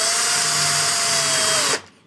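A power drill fitted with a brad point bit bores a short way into a wood block, a loud close whine that holds steady for almost two seconds and then cuts off sharply as the drill stops.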